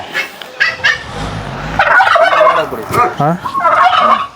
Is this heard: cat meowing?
no